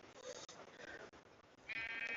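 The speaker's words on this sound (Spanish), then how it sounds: "Y aquí tenemos unas ovejas" Sheep bleat in Minecraft Bedrock, a couple of wavering, nasal cries at moderate volume, the last one louder and more sustained, with no talking during the calls.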